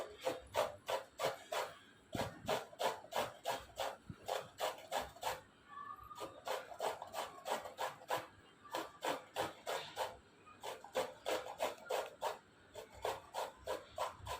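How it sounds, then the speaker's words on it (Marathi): Peeled carrots are rubbed hard against a grater in a close, rhythmic series of rasping strokes, quick and regular, with brief pauses between runs. "गाजरला व्यवस्थित किसून घ्यायचं आहे"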